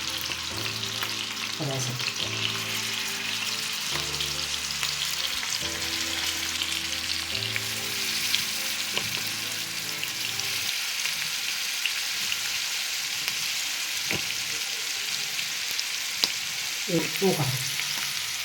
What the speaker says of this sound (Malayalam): നമുക്ക് ഇനി മീൻ അങ്ങോട്ട് പുരട്ടി വെച്ചിരിക്കുന്ന മീൻ അതിനകത്തോട്ട് ഇടാം.